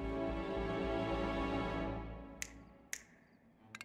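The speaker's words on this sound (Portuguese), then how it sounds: "Aplauso de dedo." Three crisp finger snaps, the last a quick cluster, ring out clearly as a droning tone fades away beneath them.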